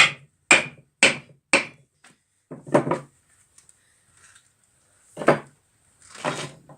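Sharp metallic hammer blows on the front axle parts of a Kubota L4150DT tractor, four quick evenly spaced strikes, then a couple of separate louder knocks after pauses, close by with no talking.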